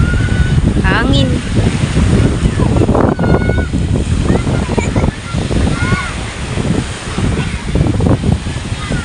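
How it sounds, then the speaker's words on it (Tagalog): Strong wind at Talao beach in Dalahican, Lucena City buffets the microphone with loud, continuous rumbling gusts over a wash of surf, while voices are faintly heard beneath it. "Hangin."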